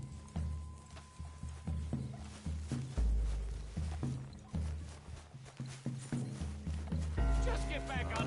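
Horse hooves clip-clop in Red Dead Redemption 2, a steady galloping rhythm of repeated thuds under game music and a speaking voice.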